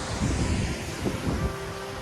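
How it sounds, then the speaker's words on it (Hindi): Strong wind gusts buffet the microphone near a mountain waterfall on a pilgrimage trek, with a continuous rushing roar of wind and falling water, loud and close throughout, and no talking. "हवा इतनी तेज़ चल रही है, वहाँ पर पानी इतना तेज़ आ रहा है हवा के साथ में।"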